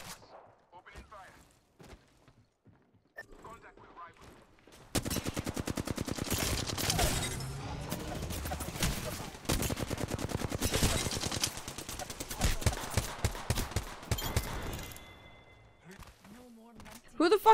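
Automatic weapon fire in the Apex Legends video game, a long sustained burst of rapid rattling shots, with a brief pause and a few more bursts, close and loud, with a player talking before and after.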